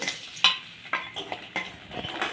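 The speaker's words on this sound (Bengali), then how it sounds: "আদা রসুনটা হালকা করে ভেজে নেবো" Chopped garlic and ginger frying lightly in a pan with spices, a soft sizzle broken by several metallic scrapes and clinks of a spoon stirring against the pan, fairly quiet and close.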